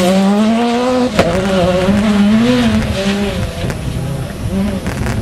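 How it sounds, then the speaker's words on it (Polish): A rally car at speed on a gravel special stage in a Barbórka Rally event at Bemowo, its engine loud and close, rising and falling through gear changes as it swings left and right, with a commentator talking over it. "Bardzo ładnie jedzie, no zmienia, przekłada ten samochód z lewej na prawej"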